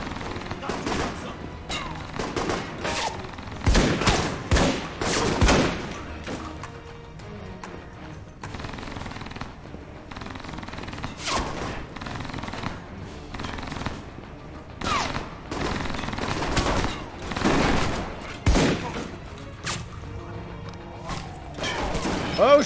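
Submachine-gun fire in the video game Alpha Protocol, ragged bursts of shots crackling repeatedly throughout amid game noise, with someone talking at times.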